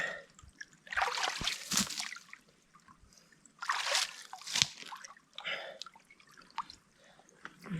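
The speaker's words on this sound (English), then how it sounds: "This is really only for when the water is flowing slowly during the summer." Water trickling and splashing gently in a slow-flowing summer creek, with irregular bursts of gurgling flow and drips between quieter moments.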